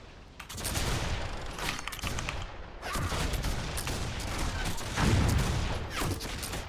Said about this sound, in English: I love having a grenade launcher.